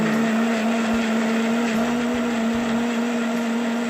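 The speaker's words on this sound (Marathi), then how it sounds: "थंड झाल्यानंतर याची पेस्ट आपण मिक्सरमधून काढून" An electric mixer grinder blends oil-fried spices into a paste for a suran (elephant foot yam) curry, giving a loud, steady motor whine with a constant hum.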